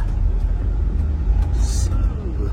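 An Agra Mas sleeper bus pulls away from a roadside restaurant on the Malang–Jakarta route, heard from inside as a steady low engine rumble with a short air hiss.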